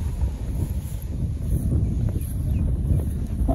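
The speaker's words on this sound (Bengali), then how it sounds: "ফুটা ফুটা বৃষ্টি পড়ছে, আর অনেক বাতাস" Strong wind buffeting an outdoor scene during light rain, a continuous low roaring rush with gusty rises, rain drops not distinctly audible.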